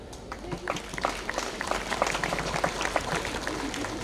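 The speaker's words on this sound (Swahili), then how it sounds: "Hapo ndio mnapiga makofi." An audience applauds at a technical institute's graduation ceremony, with a dense, continuous spatter of many hands clapping that holds steady across the whole stretch, close and fairly loud.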